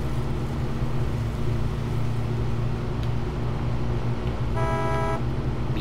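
A truck horn in the off-road driving game SnowRunner gives one short, loud honk near the end, sounding over a steady low engine rumble that runs throughout.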